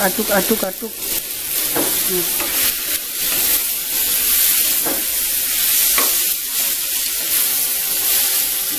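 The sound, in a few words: stirring pumpkin sizzling in a pan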